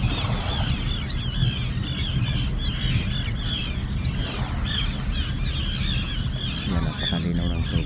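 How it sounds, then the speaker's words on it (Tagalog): Many birds honk and squawk at a beach, their calls overlapping continuously at close to moderate distance over a steady outdoor background. "Daming ibon eh."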